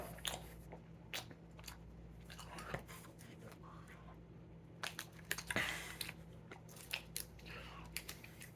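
Someone chews cocktail-flavoured Jelly Belly jellybeans close to the mic, with soft irregular bites and crunches over a faint steady hum.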